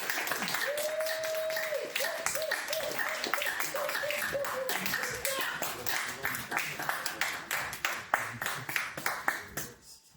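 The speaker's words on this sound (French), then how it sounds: "Je vous invite à applaudir," Applause and cheering from an audience at a yoga workshop event, a dense wash of claps that rings loud and steady, with a sustained whistle-like tone early on, then thins into scattered clapping toward the end.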